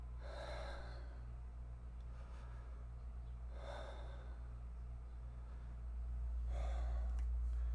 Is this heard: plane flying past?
no